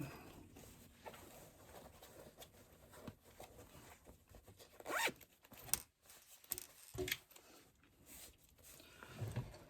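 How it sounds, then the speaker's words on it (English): A zipper being pulled open in short rasping bursts, close by, amid quiet handling rustles; no one speaks. "Pop my zipper tab out."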